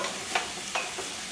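Mushrooms sizzle in a pan with a little water while Chinese-style lobster sauce is cooked, a steady close hiss broken by two or three brief stirring scrapes, with no voices.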